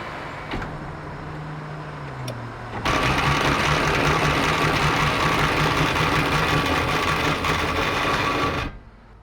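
1998 Toyota Corolla engine running rough once put in gear: steady loud mechanical drone with a low hum, rising abruptly after a couple of seconds and holding before cutting off, close up.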